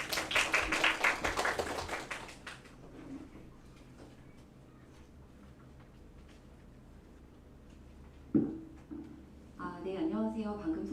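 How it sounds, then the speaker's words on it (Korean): A burst of applause at an academic presentation and discussion session fills the opening seconds and fades into room quiet; a sharp knock sounds later, then a voice starts talking. "박수로 맞이하겠습니다."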